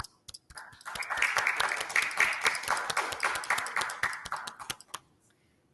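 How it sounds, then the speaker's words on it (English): Audience applause at the close of a panel session on finance and trade, clapping rising quickly into a steady patter of many hands for about four seconds, then thinning out and stopping. "I just would want to thank them with an applause."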